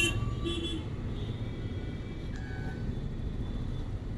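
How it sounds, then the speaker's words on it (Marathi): Busy Bangalore city road traffic heard from a motorbike ride, a steady roadway rumble with a few short car horn toots near the start and midway. "आणि ही बँगलोरचे ट्रॅफिक"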